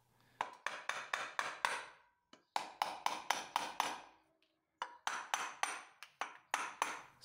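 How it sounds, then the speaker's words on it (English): A big hammer strikes a stuck part on a V6 Busso engine in rapid bursts of sharp metallic blows, several quick hits per group with short pauses between, loud and close. "And you may ask why I use such a big hammer on this very fragile part."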